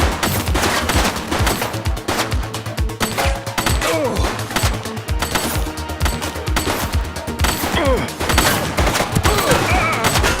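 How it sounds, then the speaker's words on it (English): Rapid, continuous gunfire from a police shooter video game fills the whole stretch, with dense bursts and shots firing close together at high volume, plus a few brief clattering impacts mixed in. "She's shooting!"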